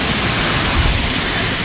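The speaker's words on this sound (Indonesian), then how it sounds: "pas di air terjun kecil ini" Steady rushing water from a small waterfall in Yangmingshan, Taiwan, a constant broadband splashing hiss with no pauses, close and fairly loud.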